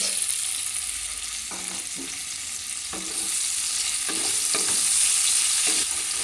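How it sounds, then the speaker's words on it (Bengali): Chopped onion fries in a pan with cinnamon for prawn pulao, a steady close sizzle that grows slightly louder, punctuated by several spatula stirs and scrapes, with no voices. "এবার আমি দিয়ে দেব একটা কেটে রাখা পেঁয়াজ"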